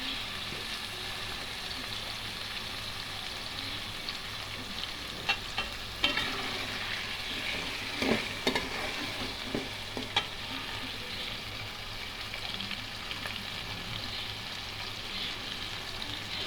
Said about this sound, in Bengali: এরকম করে মশলার সাথে আলুটাও কষে হয়ে যাবে, তারপরে সিদ্ধ হয়ে যাবে।